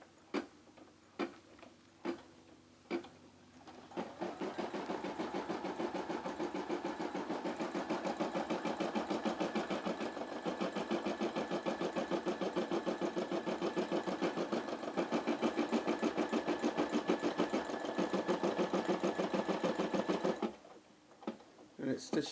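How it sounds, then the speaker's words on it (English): An embroidery machine stitches out a design in a fast, steady mechanical rattle after a few separate starting clicks, running evenly for a long stretch before stopping. "I'm going to put down the presser foot, and I'm going to let it start embroider"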